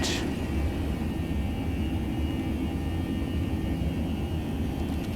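An Airbus A321 jet takes off in the X-Plane 11 flight simulator, its engines giving a steady, loud roar and whine with a constant low rumble throughout.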